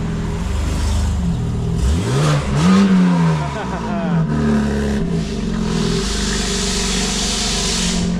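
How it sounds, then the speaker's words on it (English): An older green BMW M4 pulls into a suspension shop, its engine revving and rising in pitch before settling into a steady idle, with people talking nearby. "we got Chris pulling in the green car, the old M4"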